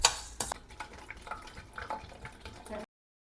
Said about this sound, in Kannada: 1 ಸ್ಪೂನ್ ಮೆಂತ್ಯ ಹಾಕಿ ಹುರ್ಕೋಬೇಕು ಚೆನ್ನಾಗಿ. ಹರಳು ಥರ ಪಟ ಪಟ ಅಂತ ಸೌಂಡ್ ಬರುತ್ತೆ,